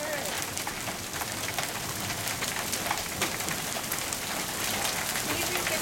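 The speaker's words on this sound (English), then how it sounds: "We're not going to save this small hail." Small pea-size hailstones fall steadily in a dense, continuous patter of tiny hard hits on surfaces, close and fairly loud for the whole stretch, with faint voices in the background.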